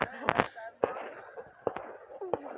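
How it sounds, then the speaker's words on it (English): Amateur fireworks bursting outdoors, several sharp pops and bangs at irregular intervals, moderately near, with a background of crowd chatter and voices. "Ah, yes, my favorite type of fireworks."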